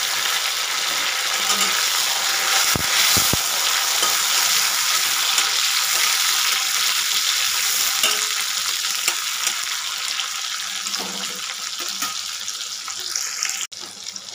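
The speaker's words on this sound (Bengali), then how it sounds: "পেঁয়াজ আর টমেটোটাকে ভালো করে ভেজে নিয়েছি" Onion and chopped tomato for aloo dum fry in a pan with a loud, dense, continuous hissing sizzle and occasional stirring scrapes throughout.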